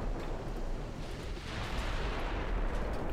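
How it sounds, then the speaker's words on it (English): Heavy battleship guns roar in a sustained naval salvo during a Home Fleet engagement in Ultimate Admiral: Dreadnoughts, a dense, rumbling wash of distant booms with no clear single shots. "She did just send out another salvo"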